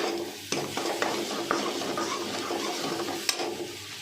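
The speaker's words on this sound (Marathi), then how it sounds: "आणि आता हे खोबरं, कांदा सगळं भाजून झालेलं आहे" Grated coconut and onion stir and roast in a pan, with a soft continuous sizzle and a few scraping taps of the spoon, close and fairly quiet.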